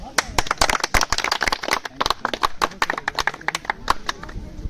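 Students clap at a B.Ed. scout and guide session at a degree college in Pratapgarh, Uttar Pradesh, producing uneven, sharp hand claps in a loose rhythm close by.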